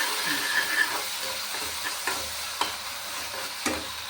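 Steady sizzle of spices and dried horse gram frying in a hot pan for a banana stem palya, with a spoon stirring and scraping now and then, close and continuous with no voices.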